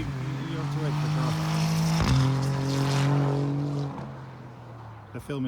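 A car drives past on a road by a Northumberland camping and caravan site, its engine hum rising as it nears, peaking midway, then fading away, with people talking nearby.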